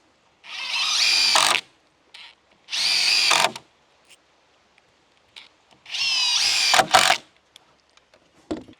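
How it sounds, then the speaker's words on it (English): A power drill drives screws into the wooden frame of an 8-foot panoramic barrel sauna with a porch, in three loud whirring bursts of about a second each, separated by short pauses and light clicks, with no talk. "And then put another 3 screws in there."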